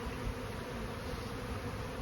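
Honey bees hum steadily around a hive being converted from National to Langstroth frames, a dense, continuous buzz of many insects close by, even in level with no pauses and no voices.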